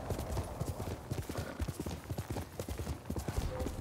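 In Ghost of Tsushima on PS5, a samurai horse gallops with close, rapid, rhythmic hoofbeats pounding steadily throughout, and a brief whinny rises over the run.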